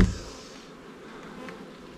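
A steady, dense buzzing of many bees in production hives, boxes full of bees, filling the clip as a close continuous hum with a brief louder burst at the very start.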